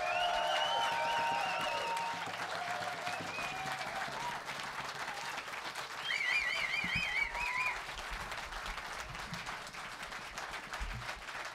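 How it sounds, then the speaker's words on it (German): Applause from a concert audience at a live gypsy-jazz show sounds as a dense, steady roar of clapping lasting the whole stretch, with sustained instrument tones fading in the background. "alles andere als einen tosenden Applaus kann ich mir gar nicht vorstellen"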